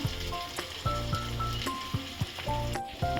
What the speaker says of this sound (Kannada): ಸೊ ಇವಾಗ ಈ ಪ್ರಾನ್ಸ್ ಹಾಕೊಳ್ಳೋಣ.